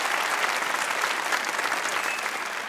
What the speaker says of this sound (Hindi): अब थोड़ी सी तालियां बजाइए